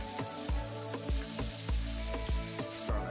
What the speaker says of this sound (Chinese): 用黄油煎大概3至5分钟以后